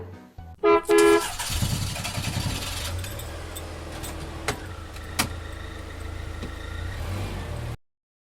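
Cartoon cars set off on a drive, with loud horn honks near the start followed by a steady engine rumble and a few sharp accents, ending abruptly.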